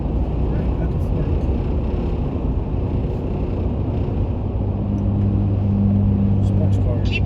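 A sports car passes on a highway in Pensacola, Florida, at night, heard as a steady, loud engine and road roar with a slight swell toward the end, while a voice talks over it.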